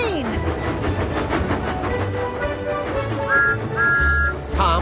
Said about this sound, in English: I'm pulling a train!